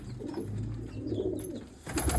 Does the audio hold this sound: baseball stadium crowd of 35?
no